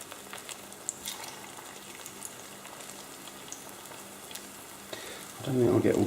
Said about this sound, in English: we're just going to put the egg bread in once it's warmed up